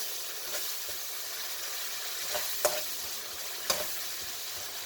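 Masala paste for a Mangalorean fish curry stirred and sizzling in a pan, a soft continuous frying hiss with occasional scraping strokes of the spoon, quiet and close.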